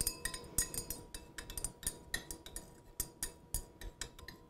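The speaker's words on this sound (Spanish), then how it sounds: "A continuación tenemos que disolver bien el sólido en el volumen de agua ayudados de una varilla de vidrio." A glass rod stirs a solid into water in a laboratory beaker, giving a steady run of quick, light clinks and ticks against the glass, close and fairly quiet, with no voices.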